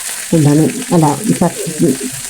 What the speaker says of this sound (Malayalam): കടുക് പൊട്ടിയതിന് ശേഷം അതിലേക്ക് വെളിച്ചെണ്ണയും ചുവന്നുള്ളിയും പച്ചമുളകും കറിവേപ്പിലൊക്കെ ഇതിലേക്ക് ചേർത്ത് കൊടുത്തിട്ട്